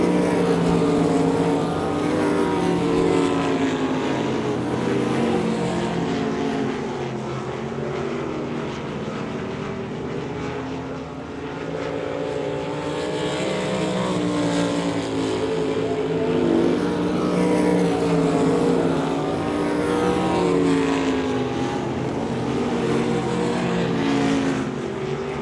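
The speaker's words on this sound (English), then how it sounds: "Two laps to go in the B feature for the sprint cars." Sprint cars racing in a B feature on a speedway oval, a dense continuous engine roar that swells and dips as the pack circles, loud and sustained throughout with no talk.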